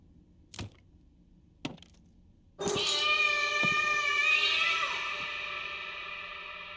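A cat in a horror video game lets out a long, loud drawn-out meow lasting several seconds, preceded by two sharp clicks.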